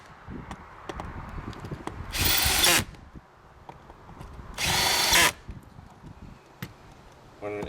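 Power drill driving seat base bolts while installing a Smooth Moves Ultra seat base, two loud sustained whirring bursts of under a second each amid quieter handling clatter.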